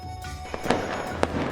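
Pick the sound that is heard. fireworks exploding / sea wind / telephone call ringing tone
fireworks exploding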